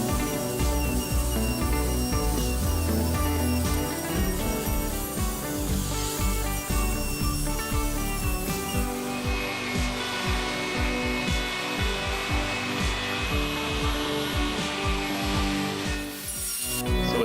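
A router fitted to a plywood circle jig cuts a circle through the plywood, giving a loud, continuous whine and grinding rasp of the bit that holds steady for the whole stretch, with no talking.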